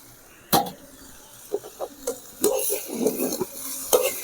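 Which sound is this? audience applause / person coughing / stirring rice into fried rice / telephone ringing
stirring rice into fried rice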